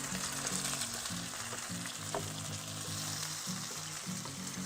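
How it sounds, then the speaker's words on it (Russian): Potatoes frying with bacon in a pan give off a steady, soft sizzle, with a spatula stirring them in a run of low scraping strokes. The sound is close and quiet. "В первую очередь картошку помешаем."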